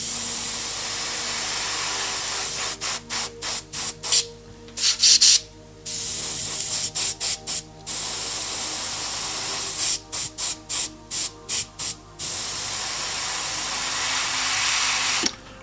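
An airbrush sprays a glaze of ink or matte paint in long steady hissing bursts, broken by a run of short quick on-off puffs partway through, close to the microphone with no talking.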